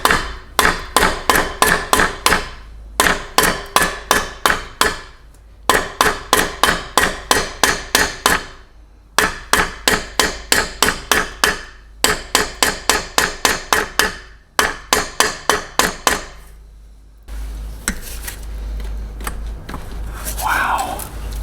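Metal hammer blows on a heated turbo part, rapid sharp strikes in tight volleys of about eight to ten with brief gaps between, loud and close, ending in a rougher stretch of noise.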